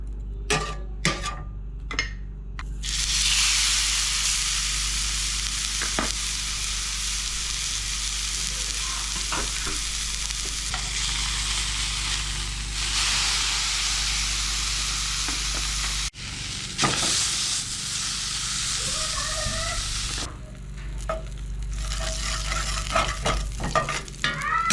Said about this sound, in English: I got a super hot pan. I'm just gonna put down a little bit of bacon grease.